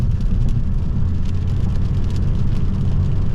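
A 2016 Ford Focus SE Sport cruises at highway speed, its engine a steady low drone blended with road and wind rumble heard from inside the cabin, with no talking.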